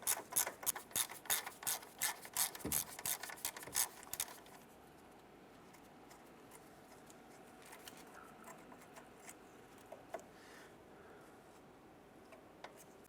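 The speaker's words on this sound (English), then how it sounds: "Just go ahead and loosen and remove this bolt." A ratchet loosens and removes a 10mm bolt holding the front flex hose and ABS wire on a 2015-2020 Cadillac Escalade, with quick, close clicking strokes for about four seconds, then faint handling noises.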